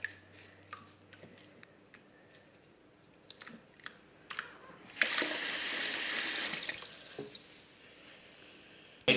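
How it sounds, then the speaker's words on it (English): Cut potatoes being washed in water in a bowl: scattered small clicks and drips, then a few seconds of steady splashing and rinsing water, close and moderately loud. "Then you wash them. And you wash them in this bowl."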